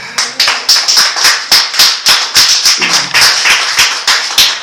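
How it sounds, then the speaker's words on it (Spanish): A church congregation claps in unison, with sharp, loud hand claps falling in a quick, steady rhythm of about four per second. No one speaks over them. "Denle un aplauso a nuestro Dios."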